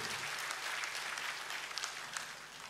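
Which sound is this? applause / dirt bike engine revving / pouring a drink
applause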